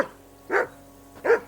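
A dog in the video game Kingdom Come: Deliverance II barks in short, sharp yaps, three barks spaced roughly evenly, fairly close and clear against a quiet background.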